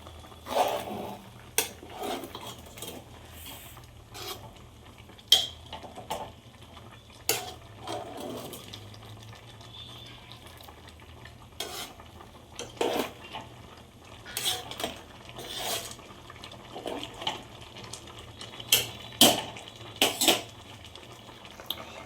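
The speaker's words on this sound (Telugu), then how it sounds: "ఇప్పుడు సాజీరా, చెక్క, ఇలాచి, లవంగం అవన్నీ వేసి కలుపుకొని" A metal spoon stirs caraway, cinnamon, cardamom and cloves in a pot for boti curry, giving irregular close clinks and scrapes against the metal, scattered bursts over quiet background, without talk.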